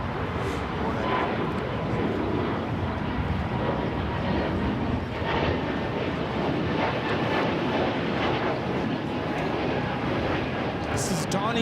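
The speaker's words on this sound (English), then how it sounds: "This is dawning of a blue era, taking off to Buffalo, JetBlue 492." A JetBlue Airbus A220-300 jet takes off at Los Angeles LAX, its engine roar a steady, loud broadband rumble sustained throughout, with wind buffeting the microphone and voices talking over it.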